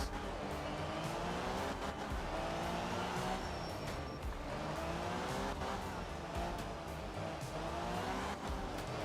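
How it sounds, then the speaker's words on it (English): Mini rally car in the Art of Rally racing game, its four-cylinder engine droning steadily and loudly throughout, with tire squeal and gravel skids as it slides through corners. "this is a weird engine sound to use for this car"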